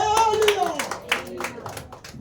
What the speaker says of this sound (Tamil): நான் ஜோரா கைத்தட்டாலே.